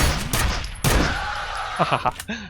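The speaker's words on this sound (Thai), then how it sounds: "นี่เนี่ยปืนตะปู" Nail gun fired in F.E.A.R., heard as a few sharp, loud bursts early on, followed by busier in-game sounds and a voice-like sound near the end.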